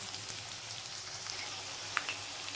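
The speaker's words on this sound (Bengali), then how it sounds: "আলুটা আমি একটু ভেজে নিই" Potato pieces fry in oil in a pan, making a faint, continuous crackling sizzle like light rain, steady throughout with one small pop near the end.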